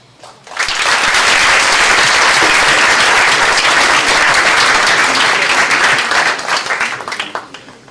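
A lecture audience applauds loudly and continuously for several seconds, a dense wash of clapping that tapers off near the end.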